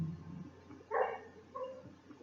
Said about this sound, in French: Si vous entendez ce bruit bizarre, c'est juste mon chien qui rêve.